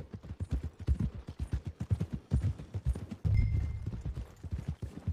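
Rhythmic clip-clop of horse hooves at a steady trot, fairly close, continuing throughout with a brief soft jingle partway, in the video game Red Dead Redemption 2.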